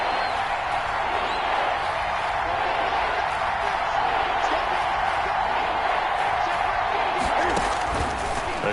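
Stadium crowd in a PS4 football video game roars steadily on third down, a dense continuous wall of cheering and noise that holds at a constant level throughout.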